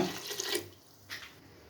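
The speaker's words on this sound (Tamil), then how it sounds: "இப்போ நம்ம தண்ணி சேர்த்துக்குவோம்" Water poured from a cup into a pot of mutton biryani, a short broadband splashing rush that fades, then a brief second pour near the end, close and fairly quiet.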